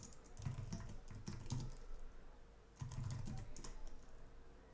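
Code being typed on a computer keyboard for IBM i (AS400) RPG programming: two bursts of close, quick key clicks with a brief lull between, no talking.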